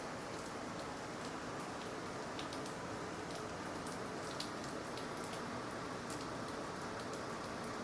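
Steady rain falls continuously outdoors, a dense even hiss with scattered drop ticks, fairly faint and unbroken, with no voices.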